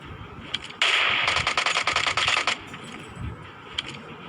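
Shots fired from a holo-sight sniper rifle in a shooter video game: a loud burst of rapid cracks with a few isolated sharper shots before and after, over a low background rumble.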